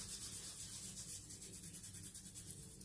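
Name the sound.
rubbing emulsified sugar scrub into hands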